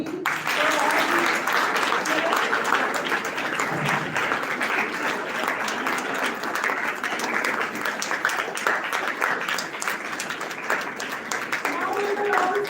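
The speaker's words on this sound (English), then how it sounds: "Please clap loudly for all" A large audience at an institution's physics lecture event claps loudly and steadily for about thirteen seconds, with a dense continuous wash of applause and some voices beneath it.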